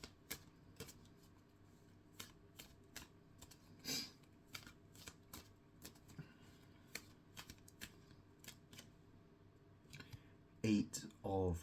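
Tarot cards being shuffled and laid out, a run of sharp papery flicks and snaps at an irregular pace, with a denser riffling burst near the end and quiet talk between.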